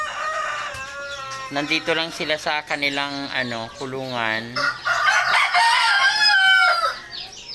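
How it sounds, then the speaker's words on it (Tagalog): Chickens cluck and squawk close by while a person talks over them, and a rooster crows loudly near the end. "Ang daming mga manok."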